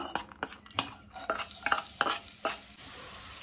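Finely chopped ginger and garlic go into three spoons of hot oil in a pan for vegetable fried rice, a soft sizzle running beneath sharp, repeated metal clinks and scrapes of a spoon stirring.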